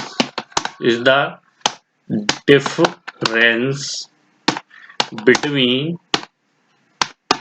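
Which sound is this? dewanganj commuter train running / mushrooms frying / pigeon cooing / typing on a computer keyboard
typing on a computer keyboard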